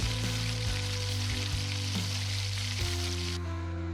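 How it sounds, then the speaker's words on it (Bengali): Green chili paste and panch phoron fry in hot oil for a vegetarian samosa filling, giving a loud, continuous close sizzle under a steady low hum, with a few faint stirring knocks and no talking. "পাঁচ ফোড়ন দিয়ে তারপর আগে থেকে বেটে রাখা দাঁড় কাঁচা লঙ্কাগুলোকে দিয়ে ভালো করে কষে নেব"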